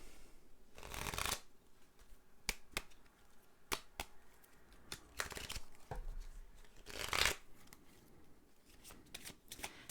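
Oracle and tarot decks are shuffled for a card reading, giving repeated crisp riffling bursts and soft flicks close to the microphone, with quiet gaps between.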